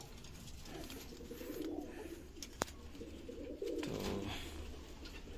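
Pigeons in a loft give low, soft cooing calls in several bursts, close but fairly quiet, with a brief click and one short spoken word.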